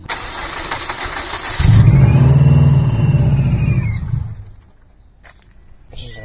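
A Subaru WRX, sitting unstarted for eight months, cranks briefly, then catches and runs loudly for a couple of seconds before faltering and dying away, leaving near silence.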